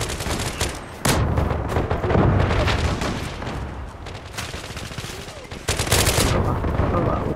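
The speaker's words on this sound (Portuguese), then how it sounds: "Tiro comendo, tomando tiro na bunda, na cara." Rapid bursts of gunfire in the online shooter game Zula crackle and boom repeatedly, with sharp loud shots and sustained automatic fire throughout.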